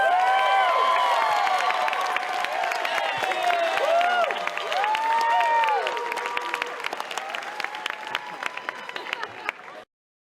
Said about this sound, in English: There's nothing better than hearing a cheering crowd.